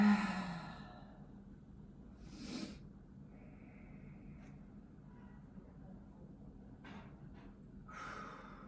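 Slow deep breaths in a yoga flow class, a few airy inhales and exhales spaced apart and heard faintly over a quiet room hum.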